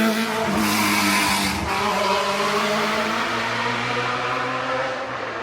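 A riding vehicle passes along a residential street in a steady, loud engine drone with a rising pitch, accompanied by tire noise and no speech.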